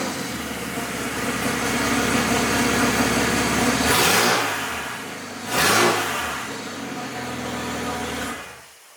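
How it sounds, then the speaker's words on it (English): A turbocharged BMW 335 engine revs hard under full boost with a loud, raspy exhaust leak and a wastegate stuck open, two sharp bursts as the throttle lifts and pushes again. "The car has a giant exhaust leak"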